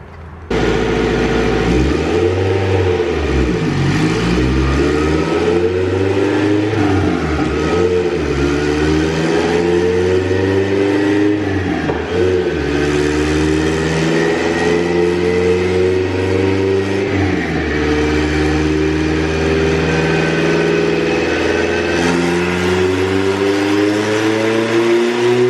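Turbocharged non-VTEC Honda Civic EG hatch engine revving toward its 7,000 RPM limiter, loud and close, with repeated rising and falling rev sweeps and then a long sustained climb, without talk.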